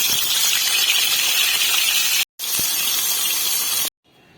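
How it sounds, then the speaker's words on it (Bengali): Tilapia fish fry in hot white vegetable oil with a loud, steady, close sizzling hiss that cuts out abruptly twice. "তেল গরম হয়ে গেছে, এবার মাছগুলো ছেড়ে দেব।"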